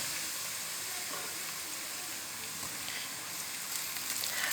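Garlic and ginger paste sizzles in a pan of browned onions for matar keema, a steady, loud frying hiss that runs unbroken throughout with no talking.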